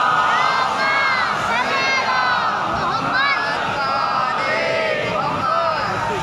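A large crowd at a religious majlis in Umarkot chants salawat loudly in unison, rising and falling in waves of massed voices with shouts mixed in.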